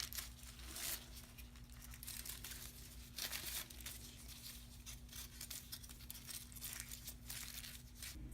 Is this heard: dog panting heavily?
no